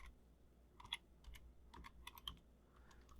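Fingers tap on a computer keyboard at a desk while setting up software controls, a quiet, close run of sparse clicks and short bursts of keystrokes in a calm room.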